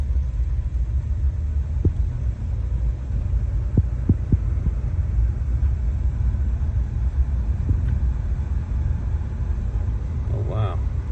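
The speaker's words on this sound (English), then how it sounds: "First drive in the 79 Lincoln." A 1979 Lincoln with 13,000 miles on it, running without its hood, a steady low engine hum and rumble from inside the cabin as it drives, with a few faint knocks and clicks.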